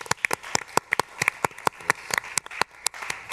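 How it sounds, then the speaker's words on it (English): Scattered hand claps from a small audience at an opera talk event, honoring cast members, with uneven sharp claps at moderate distance and no talking over them. "If we could just give them a round of applause as well."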